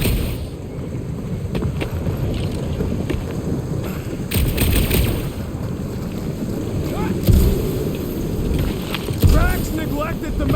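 A monsoon thunderstorm rolls through in Marvel's Guardians of the Galaxy video game: steady heavy rain and wind, with louder rumbling bursts of thunder around the middle and near the end.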